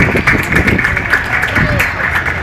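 An audience claps at a baptism ceremony, a dense patter of hands under loud talk from a nearby voice through the short stretch.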